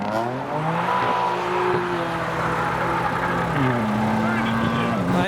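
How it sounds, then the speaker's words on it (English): BMW M3 cars leave a car show. Their engines rev and rise in pitch while one pulls away up close, and someone talks over the sound. "As the M3s leave."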